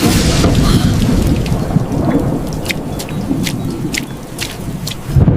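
Heavy rain pours steadily with a deep rumble of thunder rolling underneath; scattered drops patter close by, and no one speaks.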